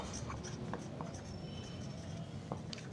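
A marker or chalk scratches steadily across a classroom board while a chemistry definition is written out, close and continuous over a constant background hum.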